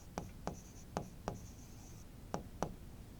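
Pen or pencil writing on paper, a string of sharp scratchy strokes and taps in an irregular rhythm, close and fairly quiet over a faint steady background hiss.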